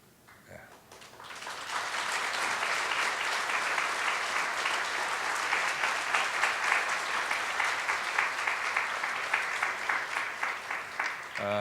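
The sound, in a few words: congregation applause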